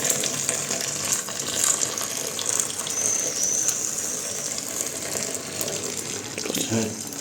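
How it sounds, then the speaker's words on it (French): Water pours steadily into a bowl of semolina for tabbouleh, a continuous close splashing gush that runs for several seconds with faint kitchen noise beneath. "Vous mettez de l'eau."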